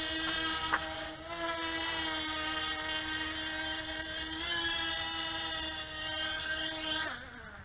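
Twin motors of an LYZRC L100 dual-rotor bi-copter whine steadily as it descends to land, a close, even buzzing tone with layered harmonics that ends with a quick drop as the motors cut.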